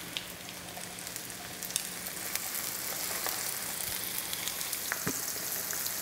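Mullet fillets frying skin side down in a hot pan give a steady, close, dense sizzle with scattered sharp pops and crackles, continuing without talk.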